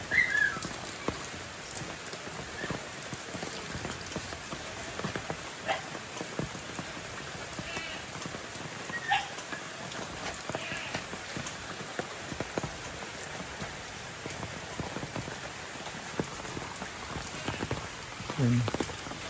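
Steady rain pours during a typhoon over a sponge gourd (patola) garden at harvest, a dense continuous hiss of drops on surfaces with no one talking.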